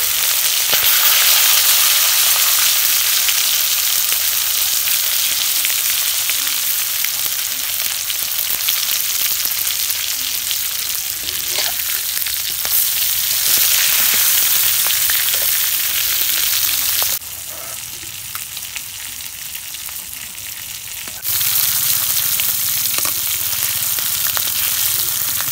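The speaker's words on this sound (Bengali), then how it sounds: "এটা হচ্ছে আপনার লোকাল চিকেন ফ্রাই রান্না" Chicken pieces, a local-style Bengali chicken fry, sizzle steadily in hot oil, a dense continuous crackle held close throughout, briefly quieter midway before returning at full strength.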